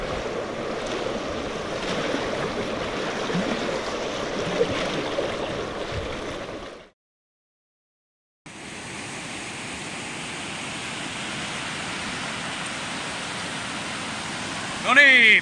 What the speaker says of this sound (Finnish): No niin, Penttilän koski.